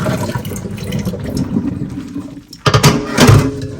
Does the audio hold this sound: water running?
yes